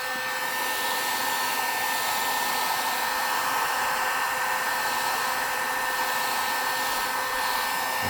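A heat gun blowing on a LiPo battery pack to shrink its wrap, a constant close, loud whooshing hiss with a faint whine that runs unchanged throughout, no voices.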